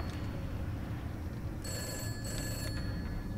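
A telephone rings in the horror video game Summer of '58, two bright electronic bell bursts standing out clearly over a low, rumbling ambient background, with no talking.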